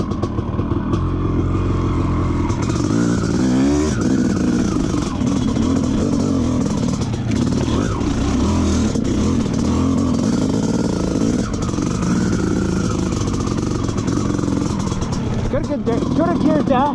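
A CR/KTM dirt bike engine runs steadily through a ride, a loud continuous motorcycle drone with shifting revs and some clatter, while voices talk over it.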